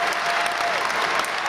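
Wrestling arena crowd applauding and cheering after an Arabian moonsault at an indie show, a dense steady wash of clapping that stays loud throughout with no clear breaks.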